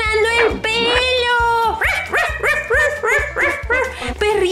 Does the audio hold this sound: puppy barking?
yes